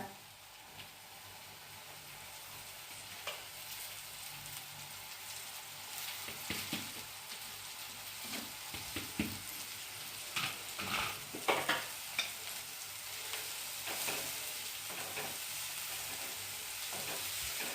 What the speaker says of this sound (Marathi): आता आपण ही भाजी टाकून घेऊ तिच्यात